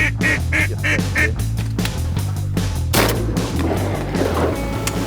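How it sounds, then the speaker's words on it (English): Mallard ducks calling while circling over a duck-shooting spot, with honking, quacking calls repeated in short bursts amid loud, close rustling and handling noise that fills the whole stretch. "Two mallards starting to circle around."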